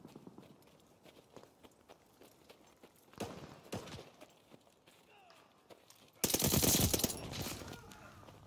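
Gunfire from the Call of Duty Vanguard video game, fighting over a hard point: a string of sharp shots, quieter at first, then a loud dense burst near the end, with game voice callouts.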